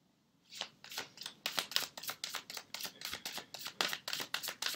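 Fairy oracle cards are shuffled close by in a steady run of soft, rapid papery riffles and slides that start after a brief quiet moment, with no voices.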